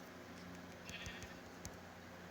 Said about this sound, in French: Et un mouton là.